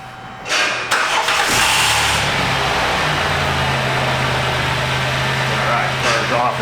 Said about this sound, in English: Let me go ahead and start the car up.